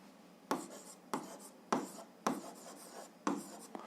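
A pen scratches across notebook paper in a school maths lesson, five or six distinct strokes in steady rhythm, each starting with a sharp attack and fading into a soft scratchy tail, close and clear.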